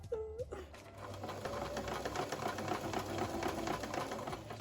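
Sewing machine running steadily as it stitches fabric for a Chanel-inspired jacket, a continuous close whirring hum with a rapid needle rhythm, after a brief pause at the start.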